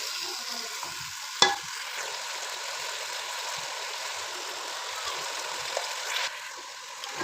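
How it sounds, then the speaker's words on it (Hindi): Nigella seeds, chillies and spices stir-fried with potatoes in a pan give a steady, close sizzle throughout, with a sharp clink of a spoon near the start and faint scraping later. "इसको जो है हम भून लेंगे, मिक्स कर लेंगे अच्छे से इन मसालों को"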